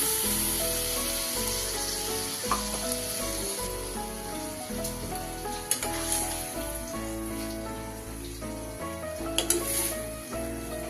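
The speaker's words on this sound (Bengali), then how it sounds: "এবার আমি ওই মিক্সির বাটি দিয়ে আর কিছুটা জল আমি দিয়ে দিলাম।" Water poured into a mustard and poppy seed paste in a hot pan while making kankrol jhal brings a loud, continuous sizzle and bubbling, with occasional stirring scrapes throughout.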